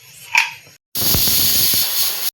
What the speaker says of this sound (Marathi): आपण आता झाकण लावून याच्या 3 शिट्ट्या काढून घेऊ मीडियम आचवर